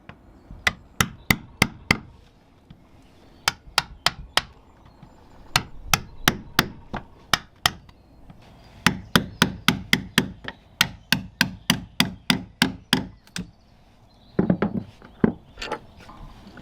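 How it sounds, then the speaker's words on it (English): Multi-tool and chisel prying up wooden planking bedded in Sikaflex on a 1940 wooden seaplane tender, heard as bursts of sharp, close wooden knocks and cracks in quick rhythmic runs with short pauses between them. "a combination of the multi-tool and chisel was needed to pry it up, as well as unscrewing the actual stainless steel screws"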